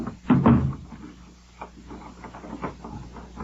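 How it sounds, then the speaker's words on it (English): A door closes with a firm wooden knock and thud, followed by softer clicks and rattles of a lock being turned, a radio drama sound effect heard fairly close. "Lock the door."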